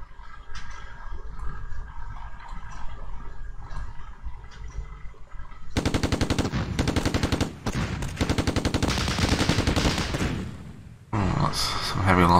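Rapid bursts of gunfire and explosions from a combined attack in the strategy video game Advanced Tactics Gold, starting after quiet ambient sound and continuing in dense, loud volleys.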